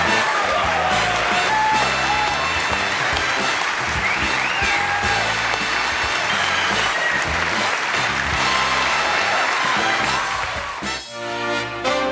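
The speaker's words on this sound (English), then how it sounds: "I'm humbled by that applause." A studio audience on The Johnny Carson Show in 1989 gives loud, sustained applause that fills the room without break for about twelve seconds.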